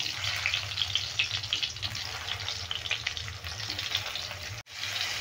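Pointed gourd (potol) pieces frying in oil in a wok, a continuous close sizzle with bubbling and light crackle, briefly cutting out near the end before resuming.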